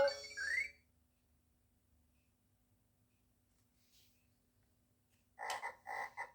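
A Vtech Sing Along spinning wheel baby toy plays an electronic tune before a long silence, then gives a frog croak as a couple of short ribbitty chirps close together near the end.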